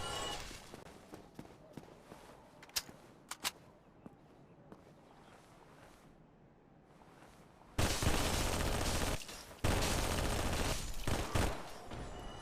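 Submachine gun fire in the Dark Souls Remastest mod, scattered sharp shots early, then loud dense sustained bursts of rapid gunfire near the end, with no talk.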